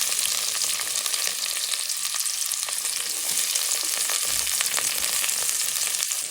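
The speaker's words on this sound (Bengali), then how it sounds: "দিলাম তেল, দিয়ে দিলাম গাজর," Carrots frying in hot oil for noodles, a dense, steady crackling sizzle that runs unbroken and close throughout, loud and bright with no voices.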